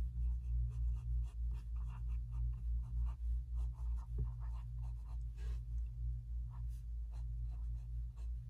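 Lamy All-star fountain pen with a gold nib scratching across paper, short faint strokes and pauses under a steady low hum.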